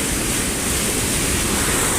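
Porter Brook in flood, water rushing over a small weir, a dense, steady broadband roar, close and loud with no other sounds.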